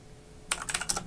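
Keystrokes on a computer keyboard start after a short quiet pause, a quick run of about a dozen close, crisp clicks typing a search on a PC running Ubuntu.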